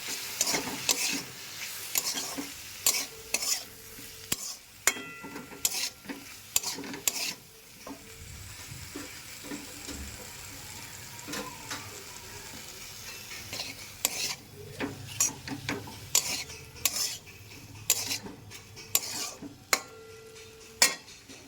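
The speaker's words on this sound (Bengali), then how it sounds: "কচুর ফুল সেদ্ধ ঢেলে ভালো করে একসাথে মিক্স করবো" Boiled taro flowers are being stirred into a spice mix in a pan, with a soft continuous sizzle under frequent scraping and clinking of a utensil against the pan, close and fairly quiet.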